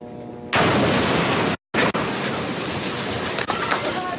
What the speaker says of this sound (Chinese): 不远处紧接传来更大的爆炸声，还照亮一旁建筑